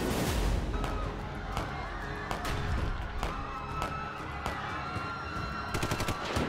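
Machine gun fire rattles in sustained rapid bursts with sharp repeated cracks, a loud, dense sound effect evoking the soldiers' shooting at Jallianwala Bagh, with no speech.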